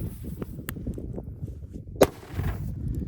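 A soccer ball firecracker bursts outdoors in a single sharp, loud bang with a short shockwave, set against steady background rumble and a couple of fainter pops earlier.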